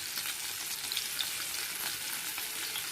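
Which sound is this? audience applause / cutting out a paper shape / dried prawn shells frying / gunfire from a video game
dried prawn shells frying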